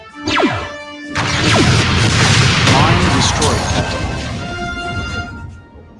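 A heavy boom from a mine being destroyed in a Star Trek starship combat game, starting with a sharp whoosh and swelling into a loud, sustained rumbling blast that slowly fades.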